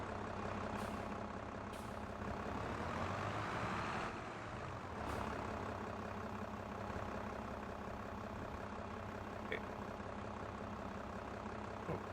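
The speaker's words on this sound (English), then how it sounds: "this tractor really struggles when loading things, especially silage, into the TMR mixer" A small tractor in a farming video game labours while loading silage into a large TMR mixer, giving a steady, loud, continuous engine drone with a low rumble that swells briefly partway through.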